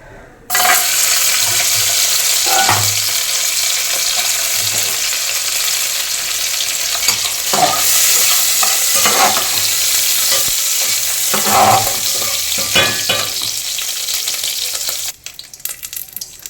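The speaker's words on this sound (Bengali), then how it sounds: "ঘি দিয়ে এবার কাজু কিশমিশটা অল্প করে নেড়ে নেব" Cashews and raisins are stirred in hot ghee, giving a loud, dense, close sizzle with repeated scraping strokes of a spoon against the pan. The sizzle fades sharply near the end.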